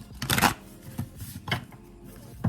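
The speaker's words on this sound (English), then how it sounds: "If I can get these cards to shuffle." Tarot cards are shuffled in a few quick riffling bursts, close and fairly quiet, with pauses between them.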